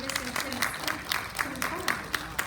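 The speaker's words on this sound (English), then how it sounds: "another round of applause for Mrs." Audience applause for a speaker at a talk on African American financial institutions and economic justice, a short round of clapping with a voice speaking over it.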